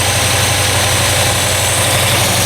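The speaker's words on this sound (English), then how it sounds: "But for an old motor, it's working pretty good." Worn old Chevrolet Suburban engine running steadily at idle, a loud, close, continuous mid-low rumble with a steady pulsing vibration and no talk.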